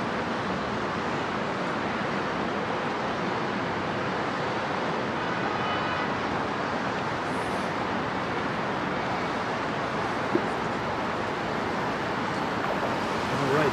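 Strong wind blowing outdoors in New York City, a steady, loud broadband rush that never lets up for the whole stretch and sounds close to the microphone.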